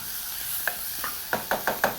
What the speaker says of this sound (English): Mixing continuously right up until your onions are translucent in color.